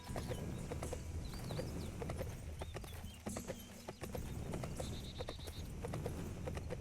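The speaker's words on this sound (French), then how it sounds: "Donc on va rejoindre tout ça à cheval." Horse hooves clip-clop at a steady trot while riding in the Sacred 2 video game, an even rhythmic patter under faint ambient game sounds.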